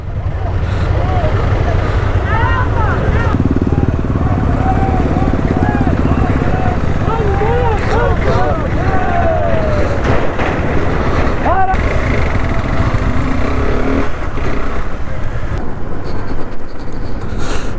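A vehicle riding along a rough, unpaved road to Siachen base camp: a continuous low engine rumble mixed with wind buffeting and scattered rattles and knocks, fairly loud throughout.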